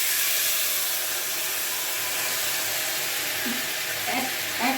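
Jaggery hitting hot oil and spices in a pan for sweet plum pickle, giving a steady close hiss of sizzling and steam, with a few faint knocks near the end.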